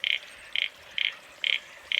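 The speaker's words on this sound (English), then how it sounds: "Can you hear that frog?" A frog croaks in five evenly spaced bursts, about twice a second, loud and close against a quiet outdoor background with no talking.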